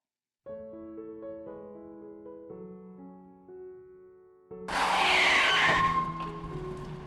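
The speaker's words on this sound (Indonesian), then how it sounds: "Dari arah depan melaju dengan kencang mobil Innova hitam dan langsung menabrak tubuh Rere kuat" Sound effect of a speeding black Innova car skidding and slamming into a person: soft sustained musical tones, then a sudden loud, harsh screeching crash burst that lingers briefly before easing off. No one speaks.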